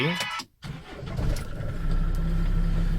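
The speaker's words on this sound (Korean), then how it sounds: "이 자동차의 시동 소리는 어떤지" An 18-year-old Kia Bongo 3 1.2-ton refrigerated truck with 246,000 km on it cranks briefly, catches after a short pause, then settles into a loud, rough diesel idle close by that builds and holds steady.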